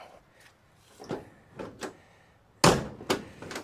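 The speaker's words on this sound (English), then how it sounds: "Door shut's great." The door of a 1972 Chevy C10 pickup is worked and then shut: several light metallic clicks and knocks lead up to one loud, solid slam close by, followed by a smaller rattle.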